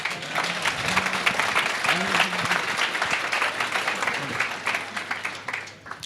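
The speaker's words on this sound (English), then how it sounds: "can everybody please give us a round of applause because we're awesome?" An audience at a talk gives a round of applause, dense sustained clapping from a crowd throughout, with voices mixed in beneath the clapping.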